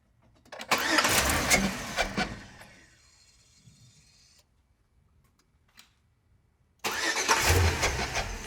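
A car engine is jump-started with a Type S jump starter, heard as a loud burst of starter cranking and engine noise, then quiet, then a second loud cranking burst that carries on to the end.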